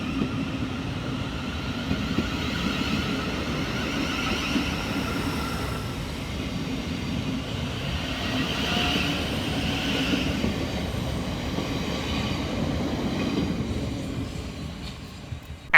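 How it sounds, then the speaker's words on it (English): A Thameslink Class 700 electric train, unit 700037, departs Shortlands station, giving a loud, steady rumble of rolling wheels and motor hum close by that carries on throughout with faint rail squeal. "And departing in the opposite direction is 700037, working the 1620 Gavir Thameslink service from London Blackfriars"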